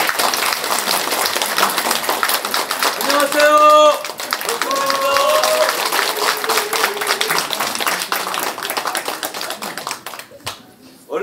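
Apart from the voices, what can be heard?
audience applause welcoming a speaker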